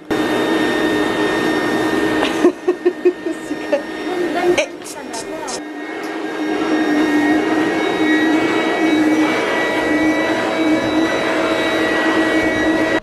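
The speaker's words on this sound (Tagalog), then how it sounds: "I-vacuum muna ni ate kasi may buhok ni Baba" A vacuum cleaner whines steadily with a high-pitched motor hum, briefly interrupted by a few knocks and clatters before droning on, loud and close.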